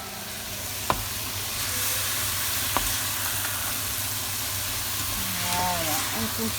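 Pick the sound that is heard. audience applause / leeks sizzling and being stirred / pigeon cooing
leeks sizzling and being stirred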